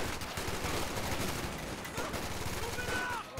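Rifle and machine-gun fire in the strategy game Company of Heroes 2 rattles densely and continuously, loud bursts layered with battle noise throughout.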